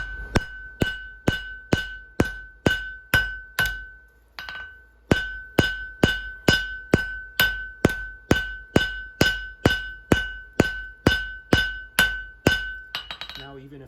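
Steady, evenly paced hammer blows ring out as a blacksmith forges a timber slick blade over the edge of an anvil, each strike loud and bright with a short ringing decay, one brief pause midway.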